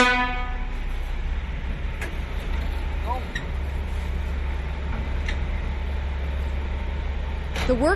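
A low, steady rumble of a tunnel-boring construction train running through the Seymour-Capilano underground tunnel, with occasional clanks and squeals and a brief horn-like tone near the end.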